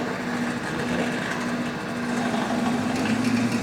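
A distributor spinning on a Sun distributor test machine, a steady mechanical whir with a constant low hum, running evenly at low RPM throughout with no talk.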